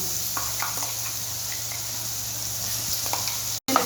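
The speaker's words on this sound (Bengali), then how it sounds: "এবার এই মশলাটা কষিয়ে নিচ্ছি" Spices with ginger, garlic and onion, chilli and bay leaf fry in a pan for a Bengali katla fish kalia, a steady close sizzle throughout with faint stirring scrapes, cutting out briefly near the end.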